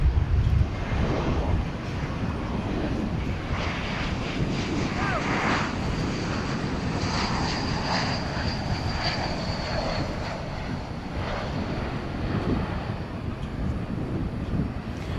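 Airplanes rumble at DFW Airport at night, a continuous low, distant engine roar with a faint whine riding above it, heard for the whole stretch.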